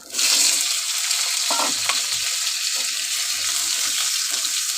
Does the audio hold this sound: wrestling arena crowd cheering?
no